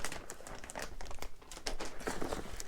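Thin plastic packaging bag from a Manfrotto Aviator Hover 25 drone backpack crinkles and rustles up close, in dense, irregular bursts of crackle that run continuously with no talk.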